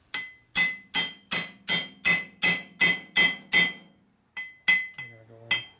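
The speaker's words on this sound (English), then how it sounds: "Using a smaller hammer." A small hammer taps a brass punch into a panhead rocker arm from a 1961 Harley FL 74ci engine, about ten sharp metallic strikes in a steady rhythm, close and clear, then a pause and a few more taps.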